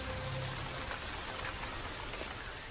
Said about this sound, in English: The rains are welcomed by most animals